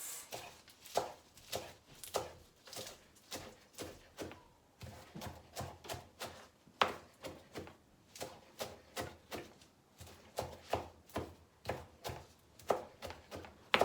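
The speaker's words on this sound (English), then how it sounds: "So now we're gonna chop them up back into small pieces, just like that." Knife chopping mixed vegetables into small pieces on a board, a steady run of close, crisp, rhythmic chops over several seconds with brief pauses.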